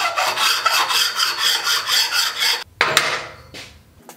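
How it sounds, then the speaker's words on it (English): Flat steel stock being scraped along its top to engrave a center line for a cargo bicycle bed frame, heard as close, steady rhythmic rasping strokes that stop abruptly, followed by a couple of lighter scrapes. "I'm gonna scrape this on the top here to sort of engrave a line on the very center line on the top."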